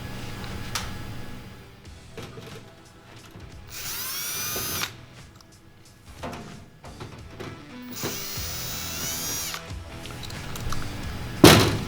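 A power drill backs out screws from the grate of a ventless kitchen hood, with two loud whirring bursts of the motor separated by quieter handling clunks and a final sharp metallic rattle.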